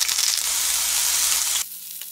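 An Australian beef chuck eye roll steak sizzles loudly in a pan over high heat, a close, even hiss that cuts off sharply near the end, leaving a quiet tail with no voices.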